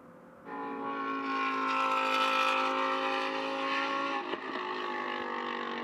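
A high-revving Lamborghini Super Trofeo race car roars past at Mugello, holding a loud, sustained whine as it passes, staying strong with a slight shift in pitch near the end.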